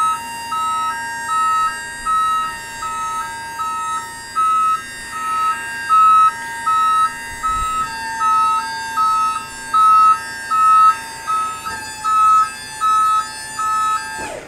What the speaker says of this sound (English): if we push that up there, you'll get the siren going.